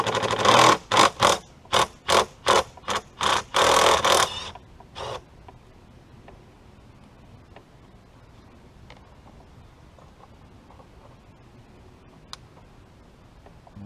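A ratchet works an 8mm bolt out of the air filter housing on a 2012-2018 Ford C-Max hybrid, giving a close, rhythmic burst of about ten sharp ratcheting clicks, then quiet with faint handling taps.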